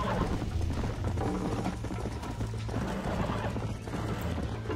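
A rapid, continuous clatter of galloping hooves runs throughout, with a brief whinny blended into a dense, steady background, in the video game Red Dead Redemption on Xbox 360.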